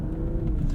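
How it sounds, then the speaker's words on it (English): A 2022 Infiniti Q60 V6 engine revs in a short, steady low rumble that stays close and loud, with no talking. "Sounds like every V6 ever."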